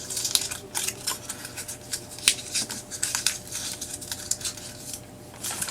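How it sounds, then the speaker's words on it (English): Scissors snip around the edges of a paper tag for a crafting project, a string of short, crisp cuts in an uneven rhythm, close and clear, with no talking. "I even brought in my scissors and just went around the edges and tattered it a bit."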